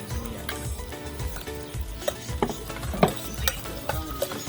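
Onions sautéing in a pan for nilaga, with a low sizzle under repeated scraping and clinking stirring strokes at an uneven rhythm.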